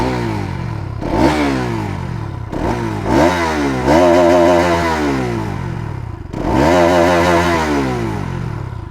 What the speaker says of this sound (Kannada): ಇನ್ನೊಂದು ಈ ಗಾಡಿ ಸೌಂಡು ನ್ಯೂಟ್ರಲಲ್ಲಿ ಐತಾ